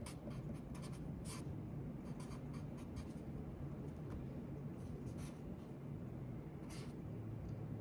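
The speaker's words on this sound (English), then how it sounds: "Here, I'll write it out." Handwriting with a pen or pencil on paper while working a math problem: faint scratchy strokes in short irregular bursts over a low steady room hum, with no speech.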